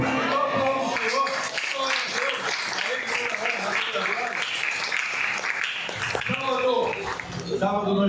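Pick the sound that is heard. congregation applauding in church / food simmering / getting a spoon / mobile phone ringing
congregation applauding in church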